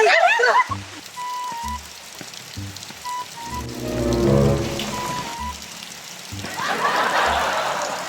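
Steady rain patters on a surface throughout, with voices talking and laughing over it and a louder burst near the end.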